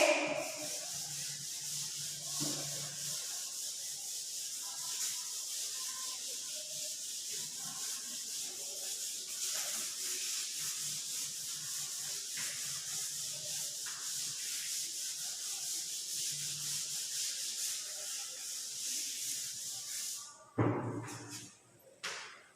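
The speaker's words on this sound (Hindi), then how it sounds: "अब मैम इसको रब कर देंगे।" An eraser rubs out writing on a notebook page in a classroom, a steady close scratchy rubbing that runs continuously for about twenty seconds, ending with a couple of soft thuds.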